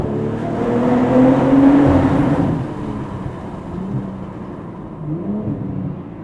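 A BMW G42 M240i xDrive with an Akrapovic exhaust and a DCE Parts 200-cell downpipe accelerates through a tunnel, its engine note rising into a loud, booming roar that echoes and then settles into a lower rumble.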